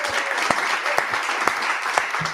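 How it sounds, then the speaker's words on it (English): Audience applause for Luis Miranda, chair of Latino Victory and founder of the Hispanic Federation, at a Latino voter poll event: steady dense clapping from a crowd for a couple of seconds, with a few sharper claps standing out. "Let's give him an applause."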